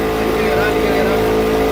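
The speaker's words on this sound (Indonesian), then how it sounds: "Aing ngegas parahu teh kumaha?" A motorboat on the lake at Situ Panjalu, powered by a Yamaha NMAX engine, drones loudly and steadily close by with an even hum throughout.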